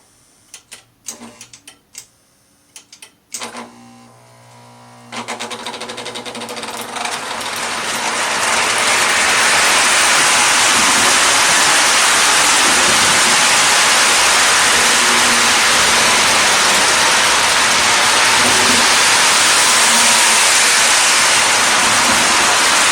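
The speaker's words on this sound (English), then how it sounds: "I always like to start off slowly, like modern Lionel, although slow on these is probably still 30 miles per hour." A Lionel Berkshire model steam locomotive starts off slowly pulling a load of cars: a few sharp mechanical clicks give way to a whirring, gear-driven rush that swells over several seconds and then holds loud and steady.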